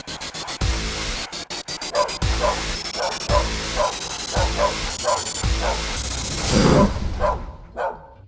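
A young African Maluti livestock guarding dog, kept to protect cattle, barks repeatedly in loud, close bursts with short yips between, over steady background hiss.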